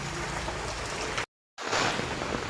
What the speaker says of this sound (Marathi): पाऊस पण जोरदार लागता.